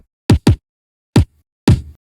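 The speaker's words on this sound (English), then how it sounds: "And then we have a kick." Kick drum from a liquid drum and bass track, heard as four isolated punchy, deep thumps in an uneven pattern, with the last hit ringing a little longer, dry and up front.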